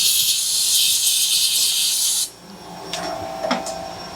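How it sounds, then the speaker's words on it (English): Compressed air blasts out a slot in a machined 17-4PH H1025 steel part as a loud, steady hiss for about two seconds, then cuts off, leaving quieter shop noise and faint clinks. "Let me blow it out with the air a little bit."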